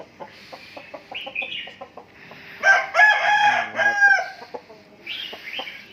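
A Sam Iao breed rooster crows loudly and close by in its pen, its long cry rising in the middle, with softer clucking and chirps from other fowl before and after.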